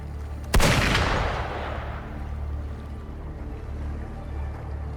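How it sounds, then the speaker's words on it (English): A single sharp gunshot cracks out loudly in the Wuthering Waves video game, followed by a long echoing decay that fades into a steady low rumble of background ambience. "Gunfire! We've got intruders."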